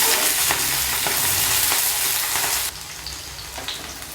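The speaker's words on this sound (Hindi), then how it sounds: "तो अब हम इसी में डाल देंगे बीन्स और इसे भी हम फ्राई करके निकाल लेते हैं।" Green beans fry in hot oil in a pan for a restaurant-style mixed vegetable sabzi. A constant close sizzle is broken by soft stirring scrapes, and the sizzle drops to a quieter, thinner crackle partway through.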